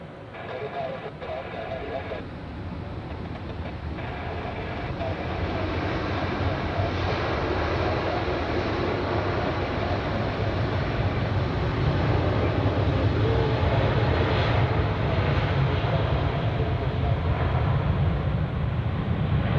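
A jet airliner rolls down the runway and takes off at Zurich airport, a broad engine roar swelling steadily louder and staying loud and sustained throughout, with a voice talking over it.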